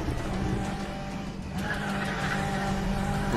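A Porsche Carrera in a racing video game is driven off-road, its engine droning steadily along with a rising tire squeal partway through, loud and continuous.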